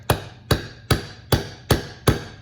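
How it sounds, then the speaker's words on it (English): Six evenly spaced hammer taps driving a part into an AR upper receiver, each a crisp metallic strike with a short ringing decay, close and loud, with no speech. "maybe I can get it started with just the hammer"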